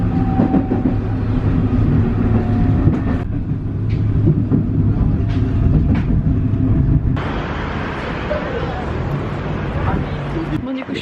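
A Paris metro train rumbles loudly and steadily, with a sharp change in the noise partway through, and no speech heard over the din.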